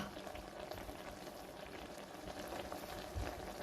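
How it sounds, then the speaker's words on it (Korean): Kimchi seasoned with chili flakes softens in a covered pan, giving a steady, faint bubbling sizzle that runs unbroken throughout with no talking. "이 김치를 이렇게 뚜껑을 닫고 말랑말랑 할 때까지 익혀주겠습니다."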